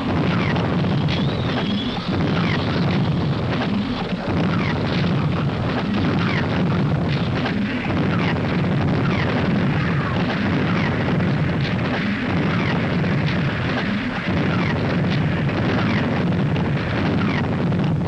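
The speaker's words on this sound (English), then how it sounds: "These bloody mortars pacing us for 5 solid days." Mortar shell explosions in a 1944 wartime film rumble continuously as dense, loud booming and crackling, with a heavy low roar sustained throughout and no clear pauses.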